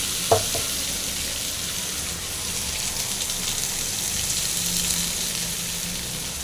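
Chutney ingredients, including ground pirandai paste, sauté in sesame oil in a pan, giving a steady close sizzle with a brief stirring clatter near the start, heard alone without talk.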